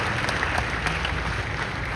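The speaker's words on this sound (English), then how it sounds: "Round of applause, ladies and gentlemen." A large audience at the ONE8 concert with Virat Kohli breaks into applause, a dense roaring wash of clapping and crowd noise that fills the brief moment without a break.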